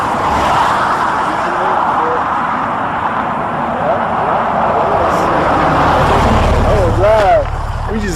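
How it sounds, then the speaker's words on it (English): A pickup truck pulls up on a road near Winthrop, its engine a steady loud rumble with road noise building close by, while people talk over it throughout. "This is the truck."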